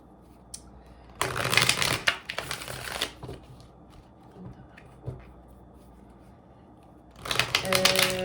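Tarot cards are shuffled in a couple of brisk papery bursts with a quiet pause between them, and soft handling noises fill the gap.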